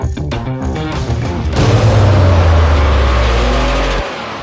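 A Porsche sports car engine revs hard, building from a rumble into a loud sustained roar that holds for about two seconds before dropping off abruptly, heard close and alone.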